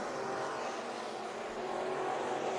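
Race cars circling Bakersfield Speedway in a dirt-track heat race, a steady distant engine roar that holds evenly at low volume throughout, with no voice over it.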